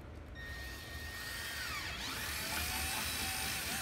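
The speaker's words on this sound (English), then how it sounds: "this drill bit's a lot sharper than the 5/16, by the way" A power drill with a sharp bit bores into a 2019 Polaris General during a Grizzz Tek fender flare install, giving a steady high whine that shifts pitch as the bit bites, loud and close.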